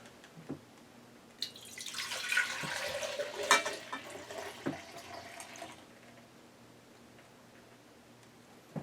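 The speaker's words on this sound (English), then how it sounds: "we're going to go ahead and pour the juice out of the pure" Celery juice from a Pure juicer is poured into a measuring cup, a soft liquid stream that rises and runs for about four seconds amid a few light clinks and taps, close and fairly quiet, with no talking.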